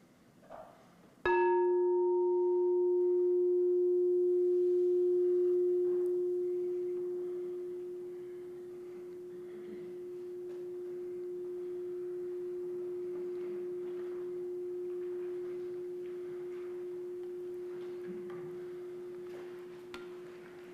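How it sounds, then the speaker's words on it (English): A meditation bell at a Sunday service is struck once, then sustains a clear, steady ringing tone with bright overtones that lingers and fades very slowly over twenty seconds, alone in a quiet room. "And now here's the sound of the bell."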